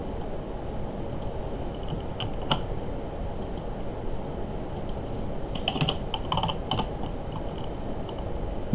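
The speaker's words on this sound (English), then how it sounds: "we'll just retype it in the correct order that it's supposed to be typed in" Soft, scattered clicks of typing on a computer keyboard sit over a constant loud hiss of background noise. The keystrokes come in small clusters and grow busier toward the end.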